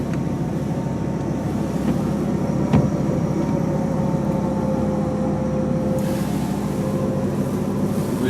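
A loud pickup truck idles steadily while pulling on a 13,000 pound winch, a constant close engine drone with a faint higher whine layered over it and no talking.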